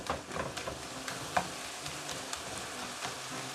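Hamburger meat, one pound with no salt, frying straight in a pan, giving a steady close sizzle with occasional pops and crackles throughout.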